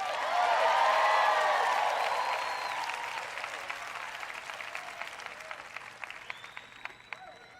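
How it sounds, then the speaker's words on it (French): An audience at a sermon breaks into loud applause and cheering that peaks early, then thins out into scattered claps as it fades away. "Allez, que quelqu'un acclame."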